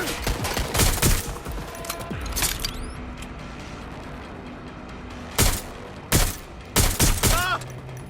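Gunfire in Watch Dogs: Legion: a few scattered shots early on, then sharp, loud bursts near the end, with electronic chirps and game ambience between them.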